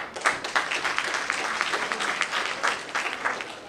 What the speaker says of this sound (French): À ce titre, ils méritent d'être salués et applaudis.